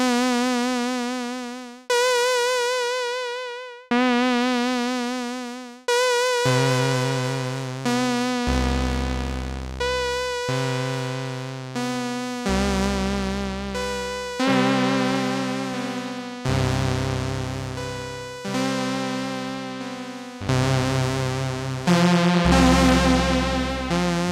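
Sustained notes from the ANALOGyGR synthesizer app on iOS, with a wavering vibrato, repeat in a steady sequence, and a deeper tone an octave below joins partway through.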